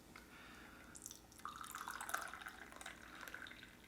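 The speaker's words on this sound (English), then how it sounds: "So we're going to pour this coffee that I just brewed," Freshly brewed El Salvador Cuzcachapa coffee, home-roasted, being poured into a cup, a faint close trickle and splash of liquid that builds for a few seconds over quiet room background.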